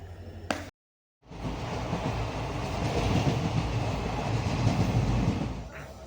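A Vande Bharat express train rumbles past steadily at moderate distance, a continuous rolling roar with faint clickety-clack that swells and fades, briefly preceded by a short cut of silence.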